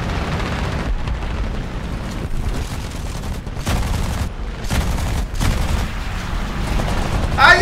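Dense, continuous booming 20 mm cannon fire from a video game, heavy rumbling bursts overlapping with few pauses, loud and close.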